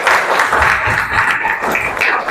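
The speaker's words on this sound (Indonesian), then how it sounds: "ya tepuk tangan dulu" Students clapping in a classroom, a steady, dense burst of applause from a group that runs for about two seconds at close range with no talk over it.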